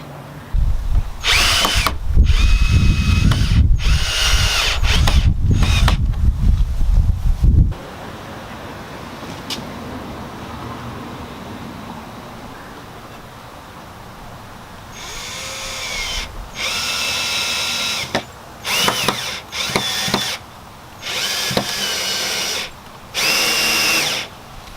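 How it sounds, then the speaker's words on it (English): Power drill pre-drilling holes in wood support pieces, a loud close whir for several seconds, followed by quieter room noise and then a series of short drill bursts. "You have to kind of pre-drill holes depending on how thick the wood pieces are."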